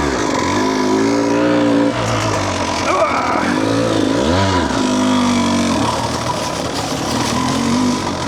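A 2016 KTM 200 XC-W two-stroke dirt bike idles close by after an electric start, with wavering revs and a couple of short blips. A voice talks over it.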